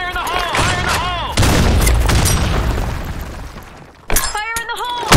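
A grenade blast in the online shooter Blackshot bursts in loud and sharp, then rolls on as a long, crackling roar that slowly fades. Shouted in-game voice lines come just before and again right after it.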